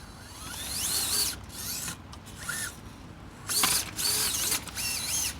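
Traxxas TRX4M LCG RC crawler climbing a slippery, low-clearance section, its drivetrain giving a close, busy whirring grind with rising and falling motor whines and ratcheting gear noise in uneven bursts.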